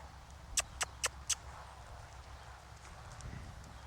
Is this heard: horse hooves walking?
yes